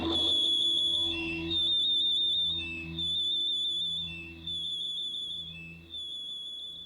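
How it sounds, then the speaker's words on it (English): A piercing, high whistle tone repeats in steady phrases in a song, sitting alone and prominent over a quieter low instrumental backing. "That is a piercing kind of a whistle tone"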